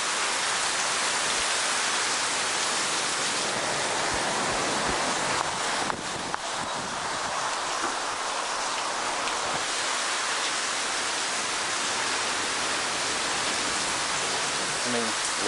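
Heavy thunderstorm rain pours down in a dense, loud, unbroken hiss that holds for the whole stretch, with a few faint bumps and patters mixed into the steady downpour.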